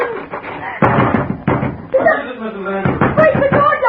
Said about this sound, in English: Break the door down, quickly!